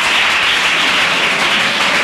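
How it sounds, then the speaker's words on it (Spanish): Audience applause for a guest on a live radio broadcast, a steady dense wash of clapping filling the whole short stretch at high volume with no pauses. "Otro fuerte aplauso para Carlos"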